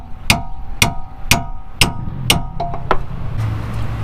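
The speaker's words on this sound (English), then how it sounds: "now we just got to tap the bolt the rest of the way up" Hammer tapping a sway bar end link bolt upward on a Chevrolet Tahoe LT suspension, five sharp metallic strikes at a steady half-second rhythm followed by a few lighter clinks.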